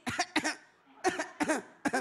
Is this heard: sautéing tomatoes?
no